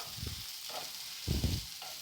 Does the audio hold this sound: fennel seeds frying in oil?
yes